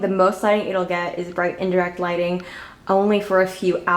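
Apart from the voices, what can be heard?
No everyday noise stands out behind the speech.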